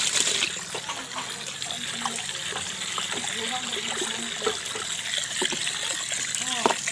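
Lime being stirred into water to dissolve it for oyster mushroom compost: light, continuous splashing and trickling at close range, with a person talking over it.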